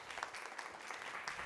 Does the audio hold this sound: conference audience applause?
yes